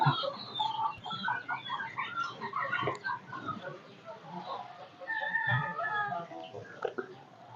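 Native hens cluck and chirp softly in a busy, overlapping chorus nearby on a small poultry farm, with a few sharper calls.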